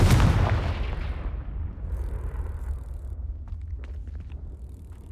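A Confringo blasting spell explodes in Hogwarts Legacy: one loud, close boom bursts out, then trails into a long, low rumbling decay with faint scattered crackles.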